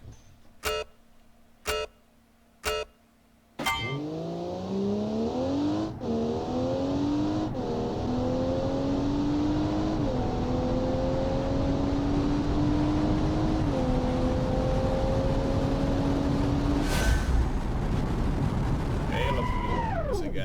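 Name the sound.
car launching without launch control, from a video game (Automation)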